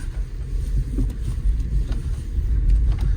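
A Swiss-market car with a reworked suspension pulls away, its engine and road rumble steady and close inside the cabin, a low continuous drone with no talking.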